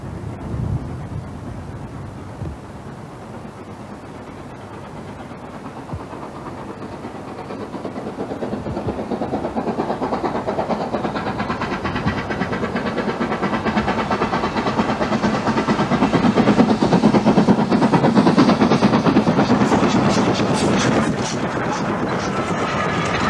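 LMS steam train running on the preserved former Highland Railway main line in Scotland, heard as a steady broad rumble that swells and draws nearer over about twenty seconds, with wind buffeting the microphone and no talk.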